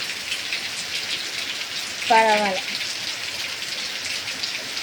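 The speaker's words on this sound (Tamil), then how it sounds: "நல்ல மழைங்க" Heavy rain falls steadily outdoors where chickens huddle, a constant broadband hiss throughout, with a brief voice speaking over it midway.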